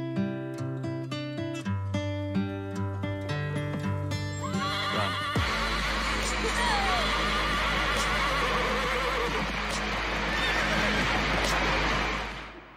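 Horses neigh and whinny in a played Czech film scene, with hooves clip-clopping; the loud, layered calls come over a musical soundtrack and a dense, noisy rumble that builds midway and holds to the end.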